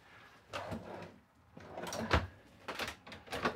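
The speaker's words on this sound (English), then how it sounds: "drawers that open up here for storage" Large storage drawers in a 2022 Montana High Country 385BR RV being pulled open, several separate sliding and knocking strokes heard close up, with quiet pauses between them.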